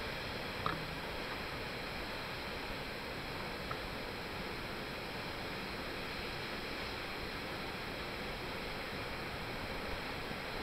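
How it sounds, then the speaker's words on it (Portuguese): Cachoeira do Salto, a 120-metre waterfall, pours as a steady, dense broadband roar that holds unchanged throughout, with no voices over it. "Tá aí, Cachoeira do Salto."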